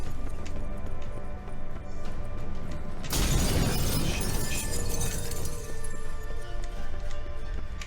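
Mirror glass shatters with a sudden loud crash in The Witcher 3: Wild Hunt (Hearts of Stone), after a few seconds of quieter game sound. A dense burst of breaking glass follows and settles into a lingering tinkling wash.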